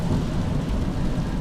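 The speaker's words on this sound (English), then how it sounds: "it's a rainy day, isn't it?" Steady rain pours with a low rumble that may be thunder, a dense continuous wash heard from inside a moving car, loud and without speech.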